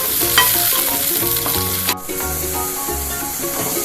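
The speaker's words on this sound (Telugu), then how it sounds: "ఇలా బాగా ఎర్రగా వేయించుకోవాలి" Tomato paste and onions frying in a pan, a loud, close sizzle with repeated rhythmic stirring scrapes and no talk.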